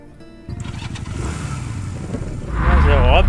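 A motorcycle engine starts up in the video game Undawn, a short crank followed by a rising, loud idle roar that builds toward the end, with a voice talking over it.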